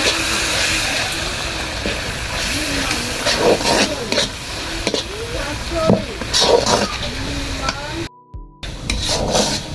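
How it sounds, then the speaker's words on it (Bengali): Turmeric, dried chili powder, cumin and coriander powder being stirred and fried in oil for an egg omelette curry, with a steady hiss under scraping spoon strokes and a voice talking over it. "বন্ধুরা মশলাগুলো ভালোভাবে কষিয়ে নিচ্ছি"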